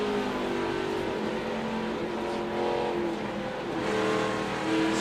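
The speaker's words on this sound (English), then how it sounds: "Watch Nemechek on this restart navigate the traffic" NASCAR Camping World Truck Series race trucks at Phoenix Raceway roar together on a restart, a dense, steady engine drone of the pack accelerating, heard at a distance and fairly faint.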